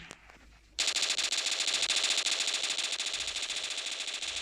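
Rapid automatic gunfire in the shooter game Standoff erupts after a brief quiet start and continues loud and sustained, a dense stream of shots with no voices.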